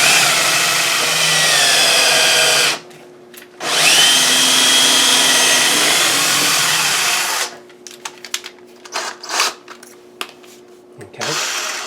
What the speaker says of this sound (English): Now a drill works better if you drill in a little bit, then you pull it out